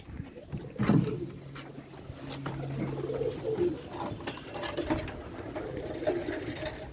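Low racing pigeon coos near the start, followed by a steady mechanical hum and scattered clatter, with some rustling in the background.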